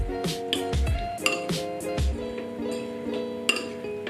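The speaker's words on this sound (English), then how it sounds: "Put the lid back on." Lid being set back onto a bowl of curly chicken with rice, light clinks and knocks of dishware at close range, a few sharp taps over a faint resonant ring.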